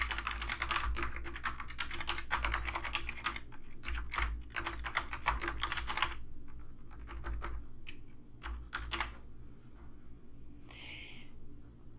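Computer keyboard typing in bursts of quick, close key clicks, filling the first half and then thinning to a few scattered strokes over a steady low background hum.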